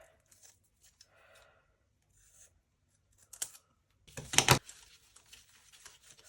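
Scissors cut through paper foam-stamp pieces with a quiet snip, followed by one louder, crisper cut. Faint rubbing and handling noises come before the cuts.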